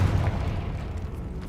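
Confringo fire spell from Hogwarts Legacy bursting into a dull, booming blast with a rumbling tail, heavy and low.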